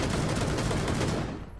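Rapid automatic gunfire in Rainbow Six Siege, a loud, dense burst of shots lasting over a second before cutting off abruptly.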